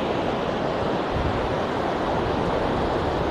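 Surf rolls in on the beach at Side, Turkey in April after a storm out at sea, making a continuous, loud rush of breaking water mixed with wind buffeting the microphone.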